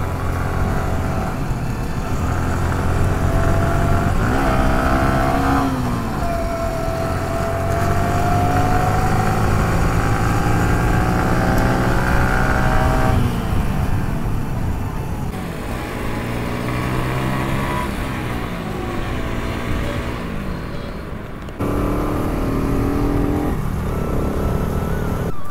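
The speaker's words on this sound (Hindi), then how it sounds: "भाई लीन करने वाले हैं बाइक इस टाइम।" A motorcycle ridden on the road toward Gandhinagar while leaning through turns, its engine a loud continuous drone with shifting pitch as it revs and settles, mixed with wind noise for the whole stretch.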